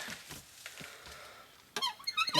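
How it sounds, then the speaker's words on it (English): Metal squeaking while a rear parking brake cable is worked free on a 2003 Dodge Ram 2500 truck, a few faint scraping squeaks followed by a louder run of sharp, rapid squeals close by. "Excuse the squeaking, wow."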